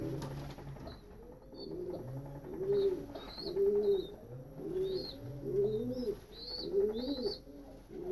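A pigeon coos repeatedly at a nest, low rolling calls in a regular rhythm close by, with faint chirps above and no speech.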